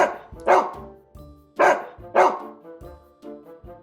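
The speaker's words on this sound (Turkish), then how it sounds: "Köpekler hav hav diye ses çıkarır." A dog barks several times in short bursts, loud and close, with brief pauses between barks.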